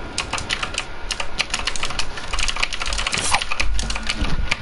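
Keys clatter rapidly on a Razer gaming keyboard used with a mouse for Fortnite play, a dense, steady stream of close clicks and taps with no talking.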